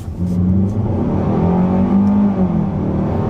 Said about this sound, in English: Let's turn down onto this back road and see how it accelerates.